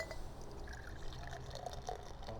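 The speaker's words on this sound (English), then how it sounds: "Pour it in." Hacker-Pschorr Oktoberfest Märzen beer poured from a bottle into a glass: a quiet, steady liquid gurgle and fizz under low room hum, with no voices.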